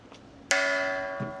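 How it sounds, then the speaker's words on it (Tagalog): The World Peace Bell in Hagley Park, New Zealand, is struck once, ringing out clear and loud, then its tone slowly fades while a faint voice murmurs near the end. "New Zealand World Peace Bell."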